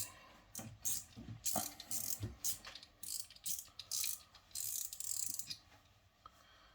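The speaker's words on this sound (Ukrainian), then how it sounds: "Фрікціон тріщить досить приємно." An Abu Garcia Cardinal 401 spinning reel with a worn, dirty drag gives off rapid bursts of ratcheting clicks, close up and fairly quiet, in several short runs with brief pauses between.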